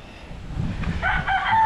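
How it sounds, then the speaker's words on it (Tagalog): A rooster crows once, rising in the middle and carried along to the end, heard fairly close with soft background noise. "Andi, punta tayo sa may manok, tara"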